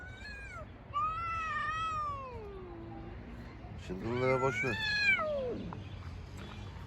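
A sick cat found on the street meows twice, drawn-out and wavering, the second call louder and more strained, with a person speaking softly nearby.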